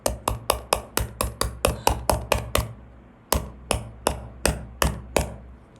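A small hammer taps on gold to straighten it, a steady run of crisp, close metallic knocks about three per second, pausing briefly before a second run resumes; no talking.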